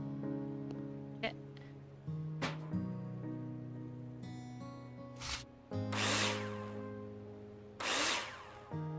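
In a video game, a power drill drives screws into plasterboard in several short bursts of whirring, with clicks and tonal game sounds between them.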